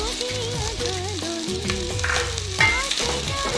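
Two large chopped onions fry with cumin in oil for a paneer dish, a steady, close sizzle with occasional stirring, under a melodic tune playing throughout.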